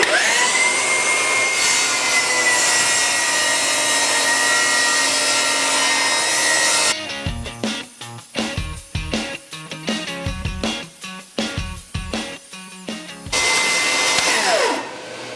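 A Milwaukee M18 Fuel table saw whines steadily, then rips into red oak in a series of straining cuts, its pitch dipping with each pass before spinning freely again.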